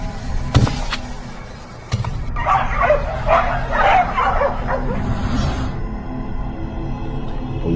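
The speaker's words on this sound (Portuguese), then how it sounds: "Passos pesados e agito de cachorros." Several dogs bark, yip and whine excitedly in a rapid, overlapping flurry, fairly close, after a few sharp knocks at the start.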